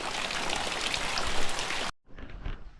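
Steady monsoon rain in a Konkan village pours down in a dense hiss, cuts off abruptly, then resumes more softly with scattered drips.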